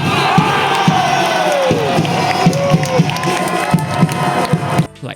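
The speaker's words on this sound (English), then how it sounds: "Whenever LCS scored, the crowd will also erupt." Football crowd at a live match in Singapore roars and cheers after a goal, a loud sustained eruption of many voices with shouts rising above the din, dropping off sharply at the end.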